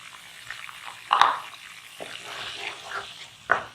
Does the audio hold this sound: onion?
yes